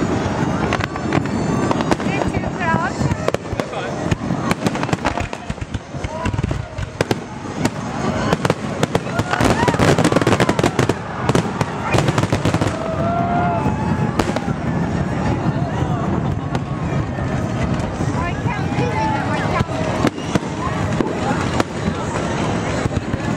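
Fourth of July fireworks in the park at Ala Moana, Honolulu: a dense, continuous crackle and popping of bursts heard from nearby, with people talking under it throughout.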